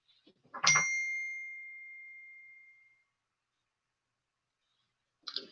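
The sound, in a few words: phone message notification ding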